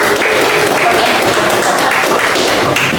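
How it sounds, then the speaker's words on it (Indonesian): Applause from a classroom group for the last team presenting, a steady dense patter of clapping lasting a few seconds, moderately loud and fairly close. "Kita beri aplaus untuk kelompok yang terakhir"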